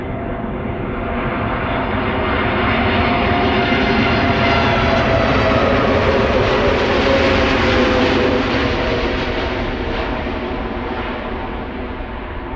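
An airliner touching down at Amsterdam Schiphol Airport produces a loud sustained jet roar that swells to a peak midway and eases off, with no voices over it.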